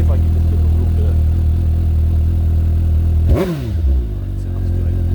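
A 2020 Suzuki GSX-S750 on its stock exhaust idles steadily up close, then gives one sharp rev that climbs and falls back to idle, with a voice speaking over it.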